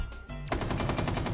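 Capitão's LMG in Rainbow Six Siege opens up after a brief quiet moment, a loud, rapid, continuous burst of automatic fire with evenly spaced shots carrying through to the end.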